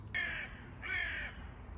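A crow caws twice from somewhere overhead, two long, harsh, loud calls with a short gap between them, above a quiet outdoor background and no speech.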